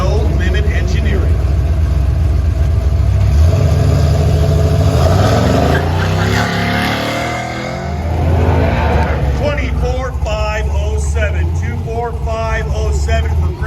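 A 1971 Chevrolet C10 truck with a 418 cubic inch LS engine revs hard at a car show's racing line, its loud throaty roar rising and dipping under a continuous announcer's voice.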